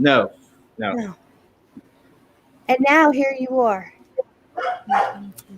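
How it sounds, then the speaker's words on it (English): A dog barks in short bursts between stretches of conversation, its yaps rising over nearby voices. "That's a dog. There's a dog."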